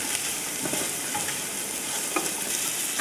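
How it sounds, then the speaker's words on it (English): Garlic and a sprig of thyme frying gently in a pan on low heat, a steady close crackling sizzle with faint stirring, no talk. "I have the heat on low right now because I don't want the garlic to burn"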